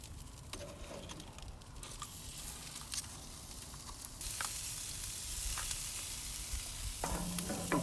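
Jerk lobster tails sizzling over direct heat on a grill, a steady crackling sizzle with scattered pops that swells louder partway through as they are flipped, no talk.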